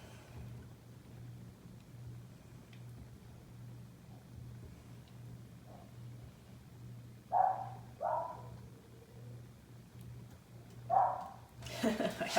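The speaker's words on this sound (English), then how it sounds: "I have my dog barking because I forgot about him outside." A pet dog left outside barks in a few short bursts, muffled and fairly distant, with a steady low hum running underneath and brief pauses between the barks.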